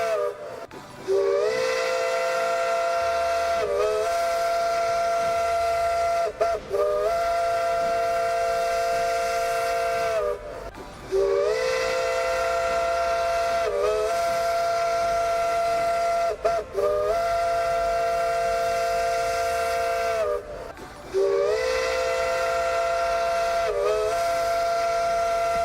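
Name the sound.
repeated train whistles in the video game Railroader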